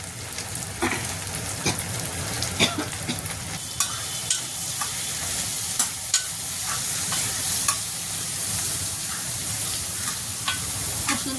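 Stuffed ridge gourd sizzles steadily in a pan with onion, tomato and masala, broadband frying crackle throughout with occasional sharp spatters and stirring clicks, close and continuous with no talk.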